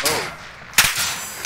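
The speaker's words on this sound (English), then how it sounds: "I'm under fire." Gunfire in the Call of Duty video game on Rebirth Island, two sharp bursts, one quick shot near the start and a louder crack partway through, over a faint background of game ambience.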